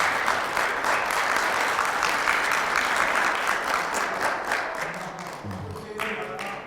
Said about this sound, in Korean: 다시 한번 우리 정담희 회장님께 박수 한번